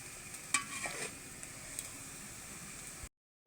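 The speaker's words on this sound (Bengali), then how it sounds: "বড়াগুলো ভালো করে লাল লাল করে ভেজে নেব।" Khesari lentil fritters frying in hot oil make a continuous close sizzle, with a spoon scraping and stirring near the start, before the sound cuts off abruptly.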